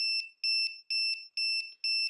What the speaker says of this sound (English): the laser will beep.